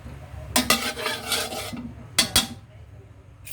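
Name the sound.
sautéing aromatics (ricado) in a pan for pansit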